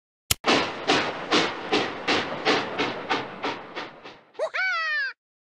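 A cartoon steam train chugging away, a run of about ten rhythmic puffs of steam, then a bright, loud whistle to finish.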